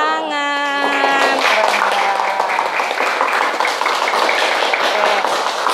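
A classroom of students breaks into steady clapping that carries on for several seconds, dense and fairly close, with a few voices mixed in at the start.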